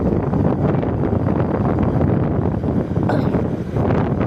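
Strong, roaring typhoon wind (Typhoon Uwan, Pangasinan, Philippines, 2025) buffets the microphone continuously, a loud, dense rush with no letup.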